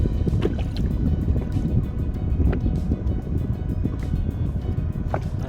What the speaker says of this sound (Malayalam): ഒരു സ്പീഡ് ബോട്ട്